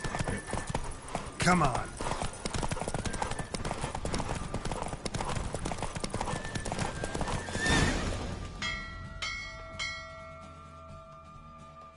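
Horse hooves clatter in a fast, steady rhythm with a whinny, a voice calls out briefly, and a bell rings near the end.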